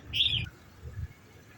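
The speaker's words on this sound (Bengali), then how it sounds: "দেখো বন্ধুরা, পায়রাগুলো কেমন বসে আছে লাইন দিয়ে।" A single bright bird chirp from pigeons perched in a row outdoors, brief and fairly close, with a soft low murmur beneath it and no speech.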